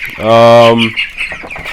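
A three-week-old broiler chicken gives a loud, close drawn-out squawk followed by a few quieter clucks and chirps.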